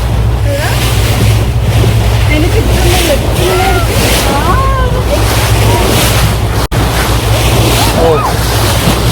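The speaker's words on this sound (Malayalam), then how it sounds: "നമ്മൾ കടലിന്റെ അടുക്കെത്തി." Sea waves wash and slap around a boat at Bandar Al Khayran off Oman, a loud, steady surge with wind buffeting the microphone and a low engine hum beneath, as people talk over it.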